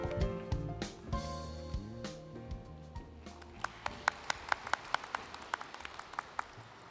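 At the opening ceremony of the 20th World Korean Business Convention, music plays and fades out, then scattered applause rises with distinct, fairly loud individual claps welcoming the convention chair to the stage.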